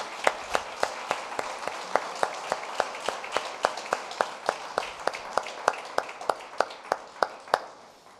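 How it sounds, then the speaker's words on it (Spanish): A church congregation stands and claps steadily together for the Lord, a regular rhythmic beat of crisp, close handclaps at about two per second carrying on for several seconds with no talking. "Le damos un fuerte aplauso al Señor."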